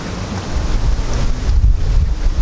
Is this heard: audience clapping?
no